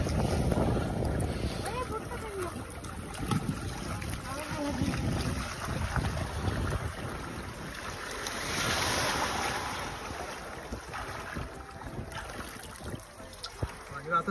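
A parasailing boat moving out on the sea off Malvan, Konkan: continuous engine and hull rumble with splashing water and wind noise throughout, swelling louder midway, with faint voices in the background.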